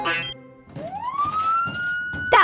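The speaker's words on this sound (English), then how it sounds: "That was a nee-naw, but it needs to be much louder." Cartoon emergency siren nee-naw in a kids' garage show, a rising wail that climbs and holds, moderately loud amid some background clatter, with no talk.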